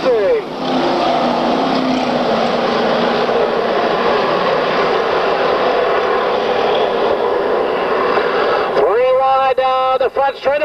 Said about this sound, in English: We're revving them up down the back straightaway, then of turn number 4.